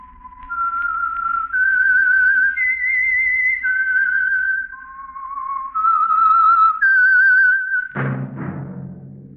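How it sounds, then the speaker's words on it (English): Whistled theme of The Whistler radio show, a lone melodic tune rising and falling over a quiet orchestral bed for about eight seconds, ending in a louder musical chord. "That whistle is your signal for the Whistler."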